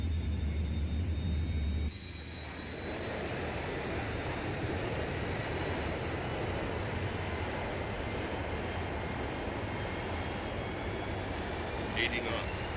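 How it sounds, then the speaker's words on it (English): A flight simulator's Boeing 737-200 cargo jet lands in the Canadian Arctic; its reverse thrust surges into a loud, sustained broad roar after a brief quieter moment and a voice speaks over it. "Spoilers deployed. Reverse thrust available."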